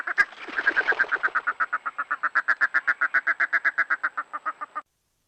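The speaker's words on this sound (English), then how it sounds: "Wood ducks fighting over a nest box." Wood ducks fighting over a nest box, a rapid run of about thirty loud, evenly spaced calls close by, with no talk, ending abruptly.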